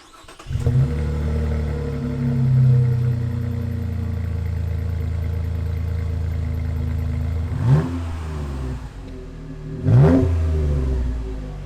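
A Chevy Colorado ZR2 Bison pickup with a Corsa exhaust starts and idles with a deep exhaust rumble, then revs sharply twice, loud and close, with no talking.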